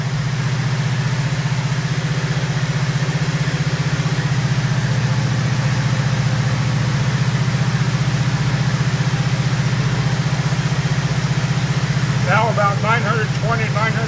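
A 1973 Mustang convertible engine idles steadily at about 910 RPM with a smooth, low, constant rumble close by, and a person's voice briefly joins near the end.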